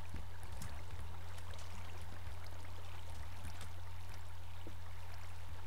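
Water flowing in the video game Minecraft, a steady low rushing trickle with faint scattered splashy ticks, quiet and continuous with no talking.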